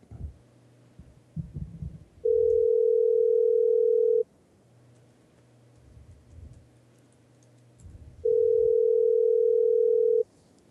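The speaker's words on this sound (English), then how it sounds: "Oh, you hear the ring?" A telephone rings for an incoming call, two long steady electronic ring bursts separated by a pause, clear and loud over a quiet background with faint low noise.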